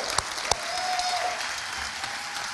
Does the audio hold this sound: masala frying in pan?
no